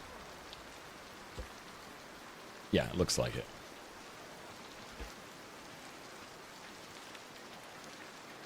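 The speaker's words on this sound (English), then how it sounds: "Does rain stop when you put a roof on?" Steady rain patters on a roof in a farming video game, a constant even hiss with occasional heavier drops, while someone speaks briefly over it partway through.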